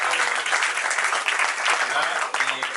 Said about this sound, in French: je tiens à remercier toute l'équipe du festival Haïti Monde, que je vous demande d'applaudir très très chaudement